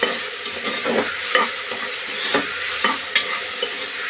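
Dal ingredients sautéing in a pan, a soft steady sizzle with repeated scraping stirs every half second or so, close up and without voices.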